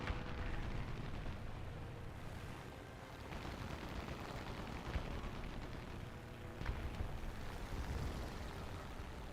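A 1,000-pound bomb detonating in the combat game War Thunder, heard as a heavy, rumbling blast and rolling roar with a sharper burst partway through, sustained for several seconds.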